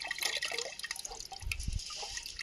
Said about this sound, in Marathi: पाणी जास्त असल्यामुळं हंड्यामध्येच काढून ठेवू म्हणलं